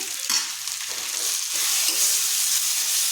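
Fish head sautéing with a pinch of chili powder in a pan: steady close sizzle and frying hiss with a few stirring scrapes, no talk.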